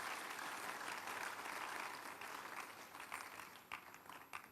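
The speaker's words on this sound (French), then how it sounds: "Give the Lord a big hand of praise." A church congregation applauds in praise during a service, a dense wash of many hands clapping together that holds steady, then thins slightly toward the end, heard from a distance.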